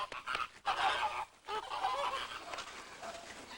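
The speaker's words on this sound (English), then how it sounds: "drill master Joseph Lexton has trained a platoon of these marvelous birds to respond to his commands" Trained birds at Ardastra Gardens in the Caribbean give several loud honking calls in short bursts, close by, with brief pauses between them and no talking.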